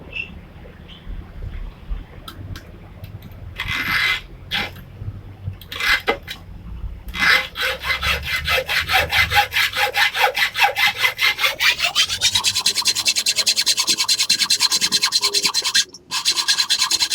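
Metal is being cut at an angle for blacksmithing: scattered scrapes and knocks first, then steady, fast rhythmic back-and-forth sawing strokes that continue close and loud to the end.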